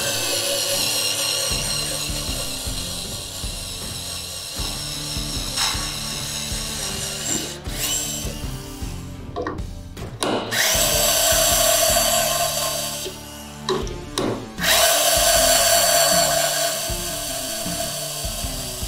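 A WORX cordless screwdriver (WX240) drilling with a small bit, its motor whining in long bursts that strain and pause, stopping briefly twice before revving up again, loud and close with no speech.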